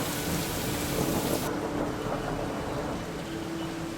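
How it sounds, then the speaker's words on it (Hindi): Heavy rain pours in a dense, loud, unbroken roar while strong wind gusts through it, with a deep rumble underneath; the hiss thins slightly partway through but the downpour continues. "वर्षा भी तेज हो चली थी और हवाओं ने भी वेग पकड़ लिया था"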